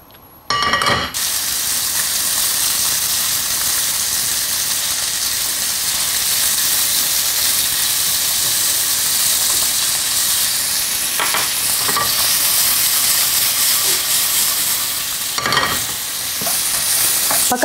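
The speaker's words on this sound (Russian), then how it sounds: "Выкладываем наш бекон в сковороду. Он должен немножко поджариться." Bacon sizzling and frying in a pan on a kitchen cooking show, a steady close hiss of fat throughout with occasional faint clinks and stirring noises and no talking.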